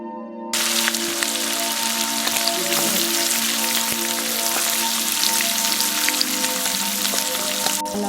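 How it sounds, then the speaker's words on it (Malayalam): Chicken pieces fry in two tablespoons of hot oil in a frying pan for kabsa, giving a loud, steady crackling sizzle with scattered sharp pops throughout. "ഫ്രൈ പാനിലോട്ട് 2 ടേബിൾ സ്പൂൺ ഓയിൽ ചേർത്ത് ചൂടായി വരുമ്പോൾ ചിക്കൻ ഒന്ന് ഫ്രൈ ചെയ്തെടുക്കുക."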